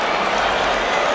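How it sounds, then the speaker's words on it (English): Boxing arena crowd, heavyweight fight, a dense constant roar of many voices and some clapping, loud and steady throughout, with a commentator's voice mixed in. "You hear the crowd reacting to the big screens"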